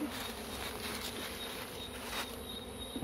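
Honey bees buzzing at an apiary during a honey harvest, a continuous dense swarm hum, close and steady, with individual bees droning past.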